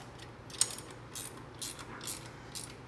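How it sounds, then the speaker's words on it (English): A ratchet snugs up the bolts on a Janus 250 motorcycle highway bar bracket, giving a few short, quiet clicking bursts spaced about half a second apart over a low background hum. "snug up these bolts just a little bit."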